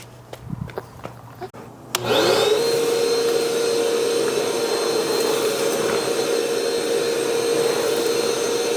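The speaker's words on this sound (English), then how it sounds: "He's going to be vacuuming the inside of the sauna." A shop vacuum starts up after a few light knocks and then runs with a steady, loud, droning whine while cleaning the inside of a North Shore sauna, with no voices.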